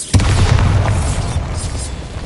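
A Bombarda spell blast in Hogwarts Legacy lands as a sudden deep boom, followed by a rumbling, crackling tail that stays loud throughout.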